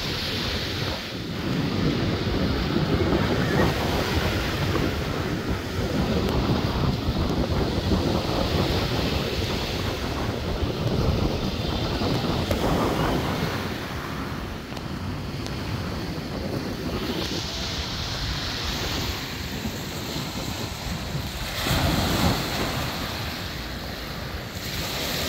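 Surf waves break on a flooded seashore after a typhoon, a steady loud roar of churning water with gusty wind buffeting the microphone, no voices.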